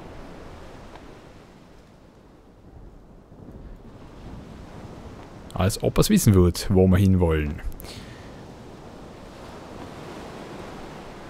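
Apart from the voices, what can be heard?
strong wind and ocean waves in Sid Meier's Pirates! video game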